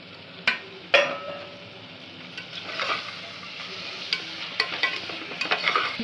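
Chopped tomatoes sizzle and fry in a pan for mint biryani rice, with a few sharp clanks of a spoon stirring against the pan over a steady low hiss.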